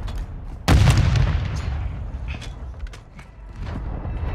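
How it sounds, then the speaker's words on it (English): A grenade explodes in Call of Duty: Modern Warfare II Warzone, a sudden deep boom that rumbles and decays over a couple of seconds, followed by scattered creaks, clicks and muffled game sounds. "Throwing grenade!"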